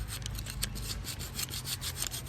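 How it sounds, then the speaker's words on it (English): 120-grit sandpaper rubs over a rubber axle bumper in quick, even back-and-forth strokes, giving a close, continuous raspy scratching with no voices. "a little sandpaper, okay? This is 120 grit."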